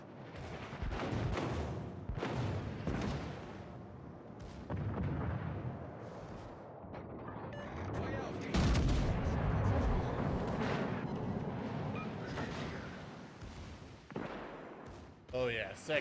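Naval ship guns in a warship video game fire in repeated heavy booms, deep artillery blasts spaced irregularly with rumbling tails, while a person talks over the battle.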